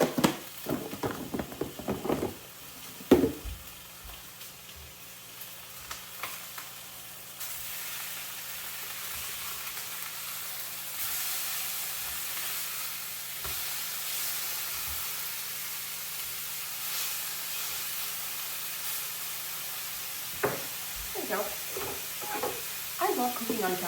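Food sizzling and frying in a cast iron pan, a steady close hiss running throughout, with stirring clatter and a few utensil knocks at the start and end.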